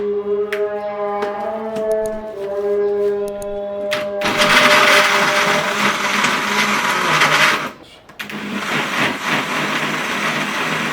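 Kitchen blender whirring loudly at home, starting after some clattering and beeping tones, running several seconds, cutting out briefly near the end, then starting again.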